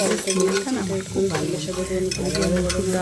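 Whole cumin seeds and dried red chillies fry in hot oil with a strong sizzle, while a utensil stirs and scrapes the pan in quick, uneven strokes close by.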